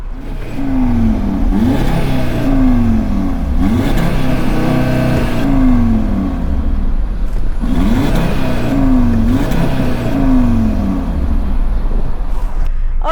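A 2.5-liter TFSI five-cylinder engine in a 2020s Audi RS Q3 Sportback revs repeatedly, rising and falling pitch sweeps in roughly regular blips, loud and close throughout.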